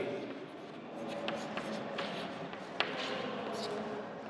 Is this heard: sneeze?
no